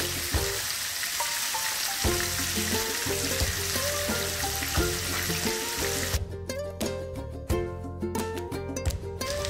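Chicken legs fry in hot oil and are turned over now and then, giving a steady close sizzle with bubbling crackle and occasional scraping clinks of the utensil.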